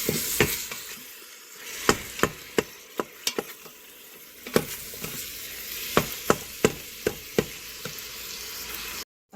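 Ground hamburger meat fries in a pressure cooker used as a skillet, giving a steady close sizzle broken by a dozen or so sharp clacks of a utensil stirring and scraping the pot, with no talking.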